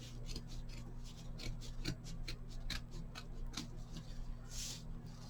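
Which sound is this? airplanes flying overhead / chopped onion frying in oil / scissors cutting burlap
scissors cutting burlap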